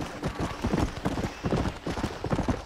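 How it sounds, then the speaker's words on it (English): Horse galloping in the Red Dead Redemption video game, a quick rhythmic run of hoof clip-clops, fairly faint and continuous, with a brief whinny-like tone and no talk. "you jump on him as the horse is like running past you when you call him"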